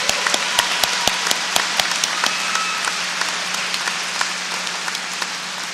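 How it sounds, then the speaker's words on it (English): Crowd at a Southeastern Oklahoma State University fall commencement ceremony applauding cum laude graduates: a few crisp separate claps swelling into dense, sustained hall applause. "Please join me in applauding the cum laude majors."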